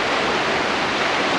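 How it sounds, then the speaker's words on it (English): Strong, high river water rushing through the Melbourne canoe slalom training course, heard as a steady, loud, unbroken roar with no voices. "You can see how strong the water's flowing."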